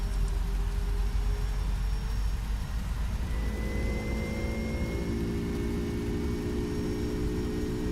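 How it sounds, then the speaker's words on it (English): Engines of a Star Air Boeing 767-200SF cargo plane roar steadily through the takeoff roll on the runway, a loud broadband rumble as rising whining tones climb in pitch midway. "Because we're on a 767-200 and usually the sounds are louder on shorter planes."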